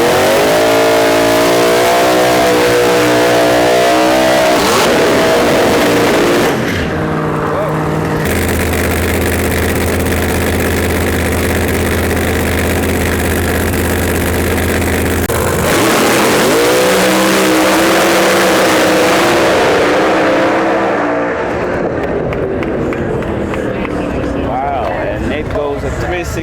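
Red Camaro drag car at the Snowbird Outlaw Nationals, a loud engine revving and rumbling close by, holding a steady drone mid-run before revving again and fading, with a commentator talking over it.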